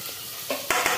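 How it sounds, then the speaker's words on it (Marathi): Tomatoes dropped into a hot pan with sautéed onion and ginger-garlic paste, a steady sizzle with a couple of brief louder stirring scrapes near the end, close and without talk. "आपण आता टोमॅटो टाकून घेऊया।"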